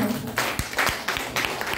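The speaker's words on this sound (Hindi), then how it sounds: "उनके लिए मैं जोरदार तालियां बजवाना चाहती हूँ" Audience applause at an Indian presentation event breaks out in short bursts of clapping, fairly close and lively, over a brief moment.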